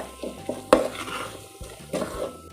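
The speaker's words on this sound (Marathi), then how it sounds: "हा मसाला छान असा परतवून घ्यायचा आहे." Grated coconut masala being stirred and fried in a pan for a Konkani-style fresh cashew curry, with repeated scraping strokes of a spoon against the metal over a soft background sizzle, close and moderately loud.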